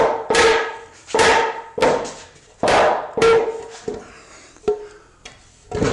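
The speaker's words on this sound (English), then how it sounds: "just use a rubber mallet and lift that top cross member out" A rubber mallet strikes a wooden cross member about nine times in an irregular rhythm, each blow a dull, close, resonant knock, the later hits softer and lighter.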